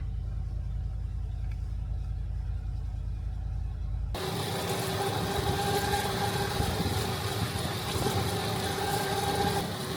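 Range Rover P38 engine running with a steady, even idle rumble that continues unbroken, heard close with no voices.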